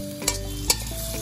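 Squid stir-fried in a pan with a splash of rice wine: a steady close sizzle with two sharp scraping knocks of the utensil against the pan.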